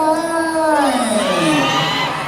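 A crowd of supporters at the Mr Hmong Laos 2025 pageant cheers loudly for a contestant, with shrill whoops and shouts rising over a sustained roar that fills the whole stretch.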